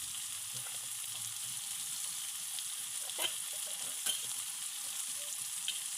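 Small potato pieces and jackfruit seeds fry in hot oil for an Assamese chicken curry, a continuous close sizzle with a few light stirring clicks and pops.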